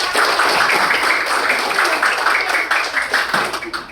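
A room of schoolchildren clapping their hands together in a fast, loud, rhythmic burst that runs the whole time and tapers slightly near the end.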